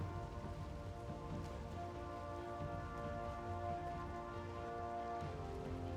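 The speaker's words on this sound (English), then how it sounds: "since we're in a swamp area, it's raining" Rain falls steadily in a swamp area in the video game Valheim, an even, continuous patter with no breaks and no voices.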